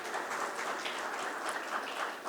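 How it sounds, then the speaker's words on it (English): Applause for the panelists at a cybersecurity panel discussion, a soft, fairly distant, continuous patter of clapping from the audience. "a big round of applause for all the panelists"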